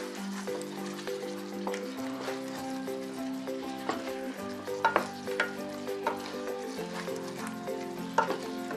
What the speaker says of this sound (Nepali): म अघि फ्राई गरेको पनिर अब यसमा राख्दैछु राम्ररी मिक्स